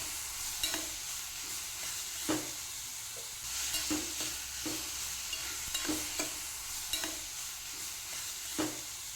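Onions and tomatoes fry in a pan with a soft continuous sizzle, while a spoon scrapes and stirs them in regular clacking strokes about once a second, close and clear.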